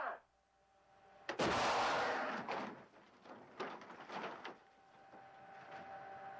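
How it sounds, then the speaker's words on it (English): A stunt explosion goes off inside a shopping mall gift shop on a film set: a sudden loud blast after a quiet moment, followed by crashing debris and scattered clattering impacts that fade into low rumble. "The difficult stunt will become even more threatening as an explosion is set off at the same time."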